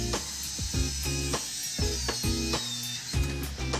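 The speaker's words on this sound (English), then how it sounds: "we cut our shelves to the size we need." A 24-inch fixed shelf being trimmed to size, heard as a steady mechanical whine with a high tone, broken by repeated short knocks and clunks at irregular intervals, close and fairly loud, no voices.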